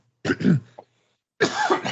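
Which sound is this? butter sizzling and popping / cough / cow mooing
cough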